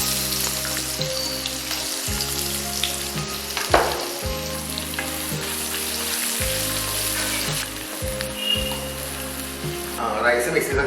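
Sliced onion fries in oil with bay leaf, cardamom, cloves, cinnamon, star anise and mace. A dense, steady, rain-like sizzle runs throughout, with occasional stirring clatter. Low droning tones sit underneath, rising again near the end.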